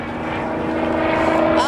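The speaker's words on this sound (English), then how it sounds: "That plane tumbles beautifully, especially in beautiful weather like this today." A Tumbling Bear aerobatic plane performing at an airshow gives a steady, loud propeller-engine drone with rich harmonics, its pitch climbing into a rising whine near the end of the short stretch.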